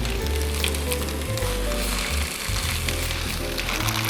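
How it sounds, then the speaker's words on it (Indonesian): Milkfish grilling on hot leaves gives a loud, steady sizzle that runs throughout with no pauses, close and alone without any talk. "Lihat, dia sudah panas ya, karena langsung daunnya ini udah langsung matang. Nah, kita akan panggang seperti ini."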